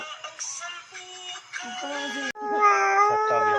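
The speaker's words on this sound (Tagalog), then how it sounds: "O, pusa!" Cat meowing close and loud, with several drawn-out, wavering meows, the last one longest and strongest.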